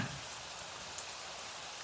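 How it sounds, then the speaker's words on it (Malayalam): Heavy rain falls in a steady, fairly faint wash of hiss with no voices over it. "നല്ല മഴയല്ലേ മാമ"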